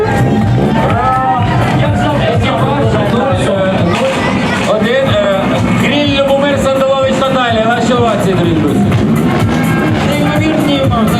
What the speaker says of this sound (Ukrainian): Ваші овації Микола на Голоміці